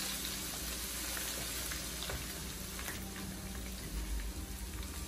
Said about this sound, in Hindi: इसमें अदरक जाएगा, अदरक लहसुन प्याज को हम भूनेंगे।